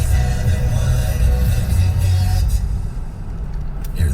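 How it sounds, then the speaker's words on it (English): An electric car accelerating on a highway during a Michigan traffic report, heard as a steady low road rumble and rising hum that stays loud and continuous throughout, with no talking. "That's the sound of an electric engine accelerating on a highway."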